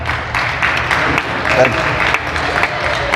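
Clapping rises from a crowd at a wrestling event after a hardcore championship match, a steady rattle of applause sitting under lively commentary.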